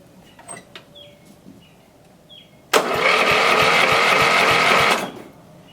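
A John Deere 111 tractor engine cranks over for about two seconds, a loud rhythmic churning of the starter that stops without catching. Faint bird chirps come before it.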